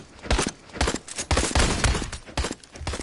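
Rapid bursts of gunfire crack in Out of Ammo VR on PSVR, a series of loud, close, uneven volleys aimed at the player with no talking.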